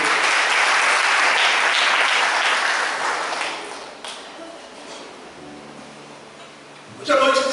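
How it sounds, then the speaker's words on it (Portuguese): Loud applause from a church congregation fills the first few seconds, then fades to a lighter patter with some rustling, followed by a sudden bright tapping burst at the end. "para aplaudir o Senhor"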